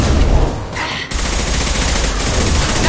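Squad gunfire in the Mass Effect 2 video game: dense, overlapping bursts of shots firing nearly nonstop, with a brief lull partway through before the barrage picks back up at full loudness.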